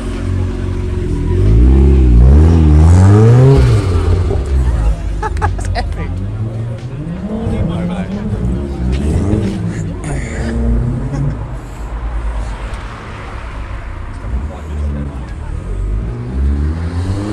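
A Mazda MX-5 revs and drives past at a UK JDM car meet, its engine rising loud and close then fading, with people chatting over the noise.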